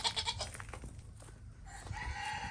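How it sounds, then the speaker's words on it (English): Backyard chickens at feeding time by a coop made from an old playhouse give bursts of clucking and squawks, close and busy, with a crowing-like call amid the flock noise. "we will go out and feed the chickens."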